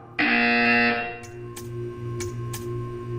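A loud electronic buzzer blares for about a second, then a steady hum continues with a few sharp clicks.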